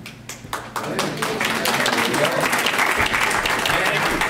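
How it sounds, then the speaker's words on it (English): An audience at a county commission meeting applauds Captain Cooper, steady dense clapping that builds within the first half second and holds loud and even throughout, with a voice heard faintly beneath. "How come you applaud him and you didn't applaud any of us?"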